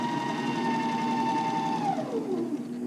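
A sewing machine stitches the corner of a camp shirt with a steady whirring hum close up, slowing and dropping in pitch near the end as it stops, with no talk.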